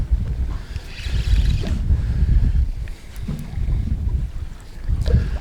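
Wind buffets a microphone on a small fishing boat out in a bay. Low, rumbling gusts surge and ease in waves, with faint water and hull sounds underneath and no speech.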